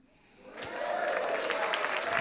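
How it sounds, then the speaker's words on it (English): A book-event audience breaks into applause after a quiet moment, rising quickly to steady, fairly loud clapping from a partly filled room. "I know only half of you are clapping."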